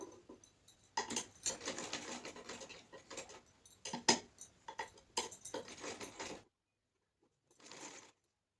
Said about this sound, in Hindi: यहाँ पे स्टिचिंग शुरू कर दूँगी